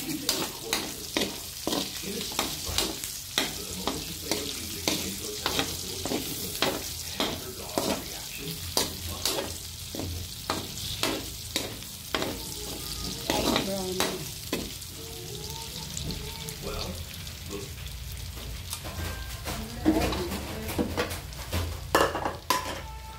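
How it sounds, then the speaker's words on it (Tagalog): Mung beans sautéing with garlic and onion are stirred in a pan, giving a steady sizzle under repeated scraping and clattering strokes of a utensil against the pan, close and fairly loud, with no talk. "Lagyan na po natin yung bawang at sibuyas. Yan, saka po natin ilalagay si munggo. Yan, haluin lang po natin."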